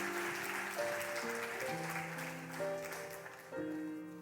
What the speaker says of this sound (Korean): 축하드립니다. 박수 해주세요.